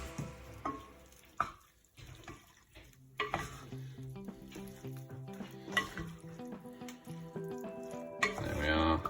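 A spoon scrapes and clinks in a pan as sauce is mixed into pasta, intermittent knocks and stirring scrapes with a soft sizzle beneath, quiet and close in a home kitchen.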